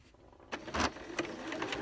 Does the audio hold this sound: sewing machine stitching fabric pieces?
yes